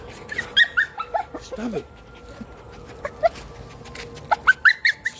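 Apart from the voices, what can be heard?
dogs whimpering and growling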